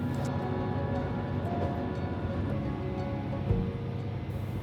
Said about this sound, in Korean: 지금 타고 있는 열차는 디젤차이긴 하지만